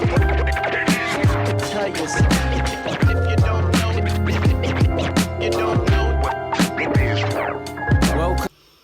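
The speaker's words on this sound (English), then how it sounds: "the scratching to start this track" Rapid turntable scratches cut back and forth over a thumping beat and bass line at the start of a track, loud and rhythmic, stopping suddenly at the end.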